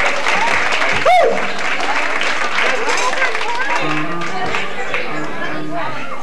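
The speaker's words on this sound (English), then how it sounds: "give this great band a great big round of applause" Loud applause and cheering from a crowd for a live band fills the space, steady and sustained, with a whoop rising briefly near the start and voices mixed in.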